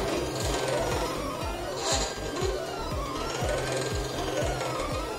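A Silhouette Cameo 4 cutter works steadily, its motor humming beneath a rapid, regular run of soft thumps and clicks, close and fairly loud, with faint talking now and then.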